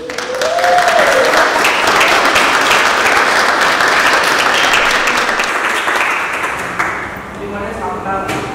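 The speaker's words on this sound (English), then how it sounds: "So give them a round of applause." An audience at an art museum conversation event applauds for several seconds, a full, steady wash of clapping that thins out near the end as voices begin to come through.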